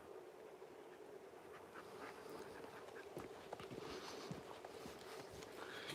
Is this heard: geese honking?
yes